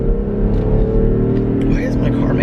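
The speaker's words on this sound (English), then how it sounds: "Why is my car making that noise?" A car's engine drones with a strange, heavy low rumble while stuck in drive and failing to shift, loud and close from inside the cabin, with a brief rise in noise near the end.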